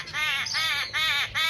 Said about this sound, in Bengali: পাখির ডাক শুনতে পাচ্ছেন, কি সুন্দর ডাক।